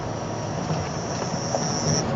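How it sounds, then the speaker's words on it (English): Cicadas buzz in a continuous high-pitched drone over a low background hum, steady and unbroken throughout. "Cicadas, eh? Actually, it's one of those sounds that you can really hear from the microphones."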